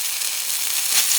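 Blackened mahi mahi fish frying in a hot pan, a steady bright sizzle that holds even throughout, close and fairly loud with no talk.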